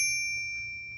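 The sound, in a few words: bell of a Royal KMM typewriter at the margin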